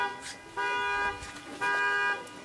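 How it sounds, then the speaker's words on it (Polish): Car horn honking outdoors at an awards ceremony, two sustained blasts about a second each with a shorter toot before them, moderately distant. "Ktoś trąbi."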